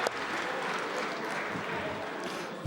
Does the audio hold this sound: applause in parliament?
yes